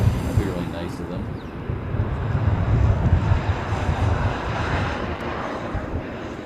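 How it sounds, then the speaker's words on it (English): Boeing 787 Dreamliner airliner at Honolulu airport, a continuous low jet engine rumble with wind buffeting the microphone, rising slightly in the middle and staying steady. "This will be the Dreamliner."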